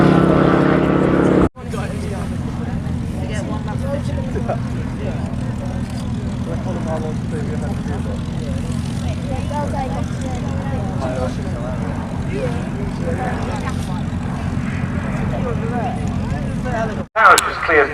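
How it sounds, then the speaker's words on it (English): Propeller drone of a T-6 Texan trainer getting airborne at the Cosford airshow, a steady loud engine roar sustained for most of the stretch and cutting off briefly near the start, with an announcer talking over it throughout. "This is the T6 Texan. Just getting airborne now will be the next display item."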